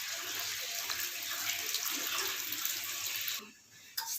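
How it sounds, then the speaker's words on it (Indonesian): Ginger is rinsed under running tap water, a steady close splashing hiss that cuts off near the end, followed by a brief clunk. "Kita cuci dengan air mengalir sampai kotorannya benar-benar hilang."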